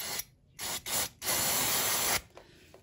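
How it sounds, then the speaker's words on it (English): Aerosol brake cleaner sprayed onto the rear brake caliper of a Mazda MX-5 NC Mk3, heard up close as a few short hissing bursts followed by one long, steady spray, with no talking. "I'm going to give it a quick clean with some brake cleaner."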